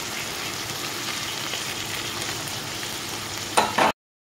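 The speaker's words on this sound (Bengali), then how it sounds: "চিংড়ি মাছগুলো খুব একটা ভাজবো না, হালকা করে ভেজে নেব।" Prawns frying lightly in oil for Bengali doi chingri give a steady close sizzle with a brief louder crackle near the end before it cuts to silence.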